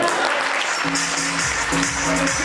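Broad, dense crackle of applause from a crowd at a network marketing training event in Haridwar, steady and fairly loud throughout, with a faint low hum of voices or music underneath.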